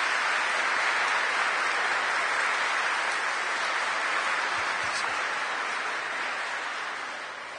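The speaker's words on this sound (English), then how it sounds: "let us give the children a good round of applause." A church congregation applauds children after a First Communion ceremony, steady sustained clapping filling the room and tapering slightly at the end.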